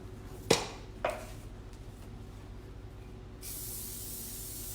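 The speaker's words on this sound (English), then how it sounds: "then I would just spray it like this." Cooking spray hissing from an aerosol can into a paper-lined cake tin for a honey cake: two short sharp bursts close to the microphone, then a quiet pause and a longer, softer steady spray.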